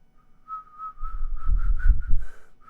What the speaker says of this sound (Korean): 휘파람도 안 나오네.